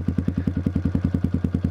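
A Yamaha XTZ 125 motorcycle with an aftermarket exhaust idles close by, its single-cylinder engine thumping in a fast, even, pulsing rhythm with a loud exhaust note.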